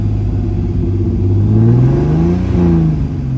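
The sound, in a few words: turbo BMW M50 engine in an E30 idling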